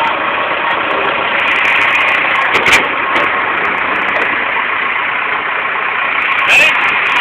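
A backhoe engine runs at a steady idle close by, a continuous loud rumble with a couple of brief knocks, and no talk over it.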